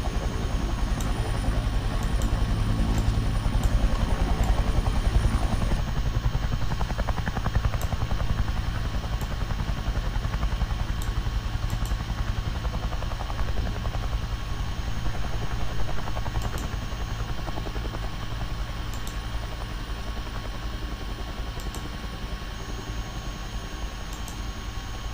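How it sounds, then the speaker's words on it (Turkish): A steady, loud drone of an aircraft passing overhead in a battle royale shooter video game, a continuous engine rumble that slowly fades over about twenty-five seconds, with no talking. "Evet, tepeden uçakla geçiyor."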